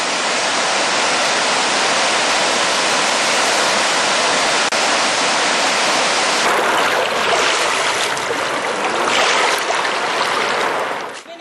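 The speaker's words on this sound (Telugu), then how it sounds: "ఖమ్మం జిల్లా భద్రాచలం వద్ద 60 అడుగులు దాటి ప్రమాదకర స్థాయిలో ప్రవహిస్తోంది" The Godavari River runs in flood near Bhadrachalam, well above the danger mark, making a loud, continuous roar of rushing water that fills the whole stretch with no voices.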